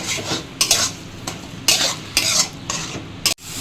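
Banana flower paste stirred in hot oil in a pan, with clear scraping strokes of a utensil recurring every half second or so over a steady sizzle, close and fairly loud.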